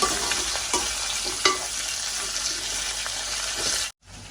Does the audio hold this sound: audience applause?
no